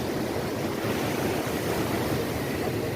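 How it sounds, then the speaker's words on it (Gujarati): Ocean waves break on the shore at Somnath, a dense continuous wash of surf, loud and close, with wind buffeting the microphone and no voices. "કેટલા મોજા આવે"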